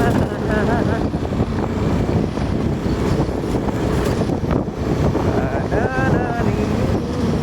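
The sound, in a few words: boat motor engine running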